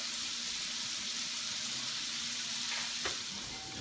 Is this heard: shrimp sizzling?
yes